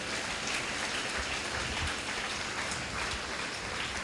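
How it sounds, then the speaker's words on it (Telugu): Loud, dense applause from a crowd at a live prayer meeting, steady clapping without pause from start to end. "చేతులు పైకెత్తి గట్టిగా చప్పట్లు పడదాం."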